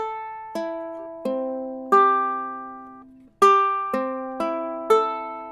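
A freshly tuned ukulele strummed on its open strings, one slow chord at a time. Seven or so separate strums ring out and fade in a quiet room, heard alone.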